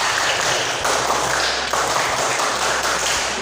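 A school class performs the scout clap routine, a rhythmic series of group hand claps in a steady patterned beat, close and fairly loud.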